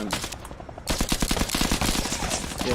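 Rapid automatic gunfire in the VR shooter Zero Caliber kicks in after a brief quiet start, a loud, dense burst of shots continuing steadily to the end.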